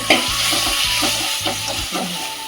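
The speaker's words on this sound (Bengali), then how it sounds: "এবার ডিমের আলুটা দিয়ে দিই দিয়ে একবার কষিয়ে" Egg and potato are stir-fried in a pan for a curry, with loud close sizzling and a regular rhythm of spatula scrapes and stirs, no talking.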